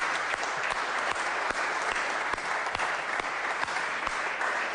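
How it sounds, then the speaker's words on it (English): Parliamentary chamber audience giving a steady round of clapping during a valedictory statement, a moderate, even patter of many hands with no voices on top. "I think we'll give them a little clap for that"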